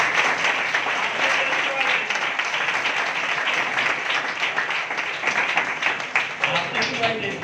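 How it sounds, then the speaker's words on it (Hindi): Loud, steady applause from a congregation at a healing and prayer gathering, sustained claps filling the whole stretch with voices mixed in underneath. "यीशु के लिए जोरदार ताली"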